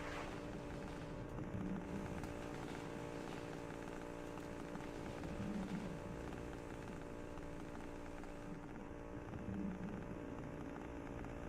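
A boat motor drones steadily in the distance, swelling into a few brief revs, faint under a constant background hum with no talk.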